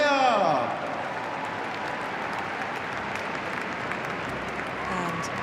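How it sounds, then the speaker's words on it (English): Steady applause from a crowd for the winners at the FEI Driving World Cup in Geneva fills the clip, dense clapping continuing evenly throughout, briefly joined by a voice at the start. "Vos applaudissements pour les lauréats."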